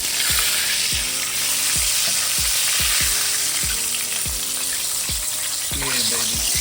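Southern-style catfish frying in hot oil, a dense, constant crackling sizzle lasting several seconds, with a regular low thumping beat running underneath.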